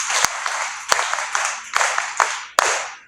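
A church audience at a youth conference claps for a servant of God in rapid, steady bursts, a dense roomful of hands swelling and easing in waves, loud and close with no voices over it.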